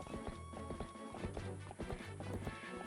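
Epona, the horse in the Zelda: Twilight Princess HD video game, galloping with rapid rhythmic clip-clop hoofbeats layered over game music, steady and continuous.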